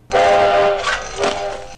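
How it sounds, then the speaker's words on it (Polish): A loud train whistle in a children's cartoon blows in one sustained blast with a couple of brief swells, close and alone. "Ale gwizdek im przeszkodził. Głośny gwizdek pociągu."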